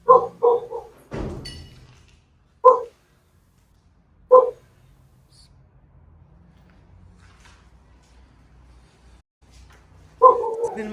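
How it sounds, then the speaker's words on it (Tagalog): A dog outside a house barks in short, loud bursts: a quick double bark, a heavy thud, then single barks spaced a few seconds apart over near silence, with another bark at the end. "Nakakainis tong aso sa labas ng bahay."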